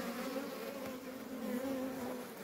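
Honeybees swarm densely around an open beehive during hive inspection, a steady, low, even buzzing hum that fills the space without breaks, close and moderately quiet, with no voices.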